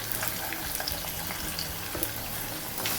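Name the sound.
mustard seeds, ginger pieces and asafoetida frying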